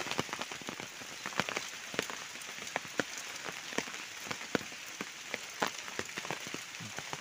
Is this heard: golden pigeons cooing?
no